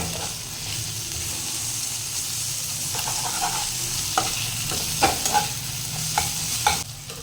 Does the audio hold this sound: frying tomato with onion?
yes